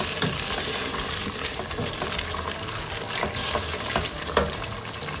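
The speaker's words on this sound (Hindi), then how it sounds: "इसे हमें बहुत अच्छी तरह भूनना है।" Mutton chops frying bhuna-style in a pan, a dense continuous sizzle and crackle with scattered spoon scrapes and stirring knocks, close and steady throughout.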